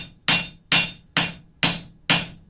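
Twisted steel stock for a daffodil stem being hammered on an anvil: five sharp, ringing blows at an even, unhurried rhythm, loud and close, each decaying quickly.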